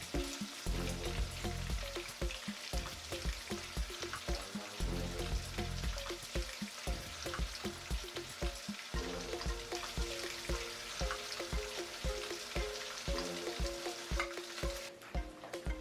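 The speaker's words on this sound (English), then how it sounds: "so let's fry it" Pork frying in a pan, a loud, dense sizzle with crackling and rhythmic stirring or flipping clatters throughout, no talking.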